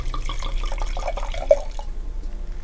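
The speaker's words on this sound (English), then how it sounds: "pour some of this while we" Red wine, a 2017 Taurasi, is poured into a glass in a quiet room, a soft gurgling trickle that tapers off after about two seconds.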